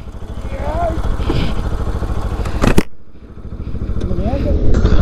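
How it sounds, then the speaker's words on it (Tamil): A motorcycle engine runs steadily during a ride from Jog Falls toward Goa, a continuous mid-pitched drone with wind buffeting and voices over it, dipping briefly near the middle before building again. "இல்லை சிட்டி, கொஞ்ச நேரம் ஓட்டி பார்த்துக்கிறேன்."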